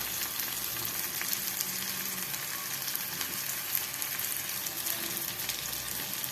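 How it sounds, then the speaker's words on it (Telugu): Onion and tomato frying in a pan, a steady, dense sizzle running evenly from start to finish with faint stirring, no talk. "దీనికి ఆనియన్ మరియు టమాటో బాగా ఫ్రై అయ్యాయి కదా"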